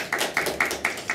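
Audience applause at a stand-up comedy show, heard as faint, distant rhythmic clapping that swells in regular pulses across the room, with no talking.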